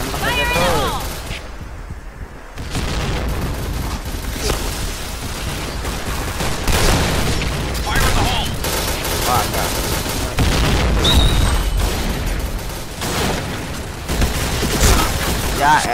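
Continuous rapid gunfire in the video game Point Blank: loud, dense bursts of shots and booms roll on for about sixteen seconds with barely a pause, with voices talking faintly underneath.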